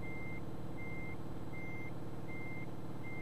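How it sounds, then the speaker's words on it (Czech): Steady reversing beeps sound from a truck in Euro Truck Simulator 2, five evenly spaced tones over a constant low engine rumble, with no talking. "To pomalu couvá. To pípání mě docela štve"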